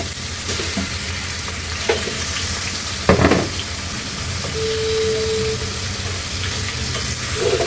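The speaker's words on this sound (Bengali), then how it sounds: "মুরগি আর আলুটা আমি এখানে একসঙ্গেই ভাজবো।" Chicken and potatoes fry together in oil in a pan for a braised chicken dish, sizzling loudly and continuously, with a brief clatter of stirring midway and no talking.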